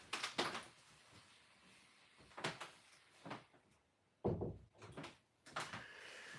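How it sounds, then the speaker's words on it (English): Indoors at night, a door is closed with a series of bumps and knocks, ending in a firm close that stands out over quiet room noise, with no voices. "I gotta close the door."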